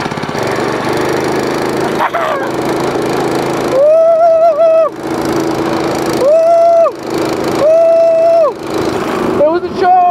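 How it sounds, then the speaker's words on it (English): A go-kart's small engine runs loud and close, revving up and down in repeated bursts with a droning whine, while voices talk and shout over it. "It was a choke!"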